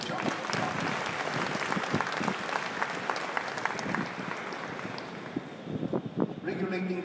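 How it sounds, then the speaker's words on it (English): Audience applause at a city mayor's State of the City address, a steady wash of clapping from a large crowd sustained throughout, with some talk and murmuring mixed in. "Can we give a round of applause to the Cebu Chamber?"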